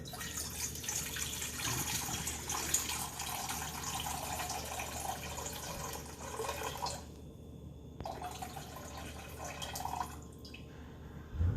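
Ordinary tap well water runs and drips steadily into a container while measuring for wood-fired pizza dough, a continuous close trickle with brief pauses near the end.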